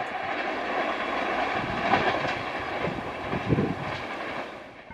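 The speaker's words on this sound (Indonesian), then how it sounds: "kereta api Bandara Bias" A KRDE BIAS airport train on a test run from Adi Sumarmo airport in Solo toward Klaten rolls past with a rumbling, clattering roar. Louder bumps come midway, and the sound fades at the end.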